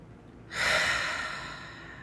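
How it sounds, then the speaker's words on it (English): A single long, audible exhale out through the mouth follows a quiet breath in through the nose, the outbreath rising suddenly as a breathy rush and then fading gradually, close and alone. "take a nice inhale to your nose and exhale out your mouth"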